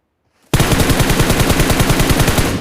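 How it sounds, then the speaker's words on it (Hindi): Rapid automatic gunfire from an M-series assault rifle in the PUBG mobile video game, a loud sustained burst of evenly spaced shots starting abruptly after a brief silence. "तो मैं उसे एम लेके फायर देता हूँ"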